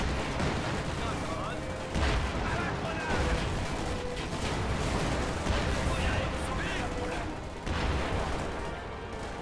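Incendiary artillery barrage in a video game, dense continuous rumbling explosions and crackling fire, loud and sustained throughout with heavier bursts every couple of seconds.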